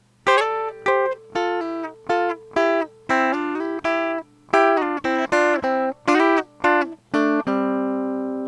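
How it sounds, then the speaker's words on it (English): Bright electric guitar notes plucked in quick pairs with two fingers instead of a pick, each struck chord ringing briefly before the next, with a final sustained chord left to fade. "This allows me to play the strings virtually simultaneously"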